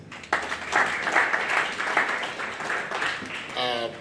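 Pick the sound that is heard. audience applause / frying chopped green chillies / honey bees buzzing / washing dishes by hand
audience applause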